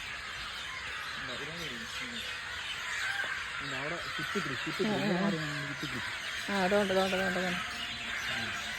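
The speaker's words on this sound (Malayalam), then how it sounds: "പല തരത്തിലുള്ള പക്ഷികളുടെ സൗണ്ട് കേൾക്കുന്നില്ലേ?" Many birds, including crows, call over a steady background hiss, with bursts of repeated chirps and caws rising from about the middle onward, some near and some farther off, while a person speaks a word.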